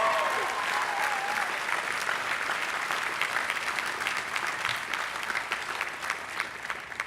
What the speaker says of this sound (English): Let's give them a big round of applause for the great work that they have done.